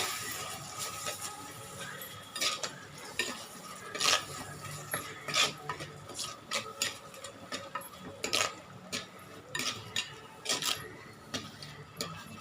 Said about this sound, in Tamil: இப்போ நம்ம அரைச்சி வச்சுருக்கிற இந்த மசாலா இதை போட்டுக்கலாம். மசாலா நல்லா வதக்கிங்க.